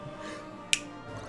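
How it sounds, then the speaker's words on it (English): One crisp finger snap cracks out sharply in the middle of a quiet room, with soft background hum before and after it and no voices. "I'm gonna snap my fingers and you will be dead"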